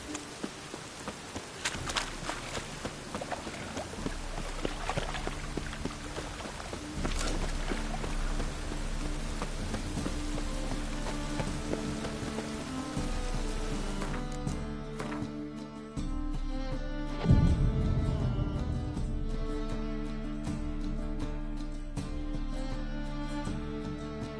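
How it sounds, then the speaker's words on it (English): Steady rain falls in The Witcher 3: Wild Hunt, a continuous patter with game music and ambient tones layered over it and no voices. "And it's raining again."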